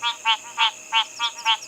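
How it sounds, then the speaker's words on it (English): Frogs call at a dam at dusk in African bush, six evenly spaced rasping pulses sounding clear and fairly close over a faint steady insect hum. "I'm so rusty with my frog calls that I actually can't even remember what species this really is."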